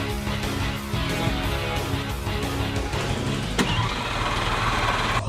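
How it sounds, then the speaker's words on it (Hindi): A car engine cranks and idles with its exhaust modified by a plastic trash bag. The rough, steady mechanical rumble is loud and close, with a brief clunk partway through. "ठीक है एलेक्स, स्टार्ट कर दो।"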